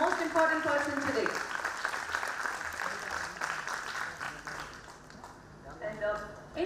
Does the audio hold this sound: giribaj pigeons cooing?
no